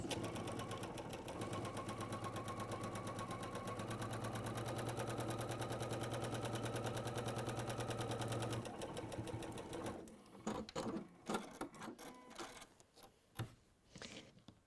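A sewing machine stitches a small seam in textile work, a fast, even mechanical rattle running steadily for about nine seconds, then stopping and giving way to scattered handling clicks and bumps.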